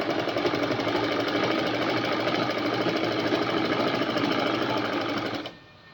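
A sewing machine stitches fabric in a continuous, rapid, close mechanical chatter that runs steadily for several seconds, then stops abruptly near the end, with no talking.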